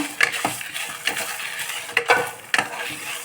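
Coriander seeds frying in a hot pan while a spoon stirs them, a close crackling sizzle broken by several sharp scraping and tapping strokes of the utensil.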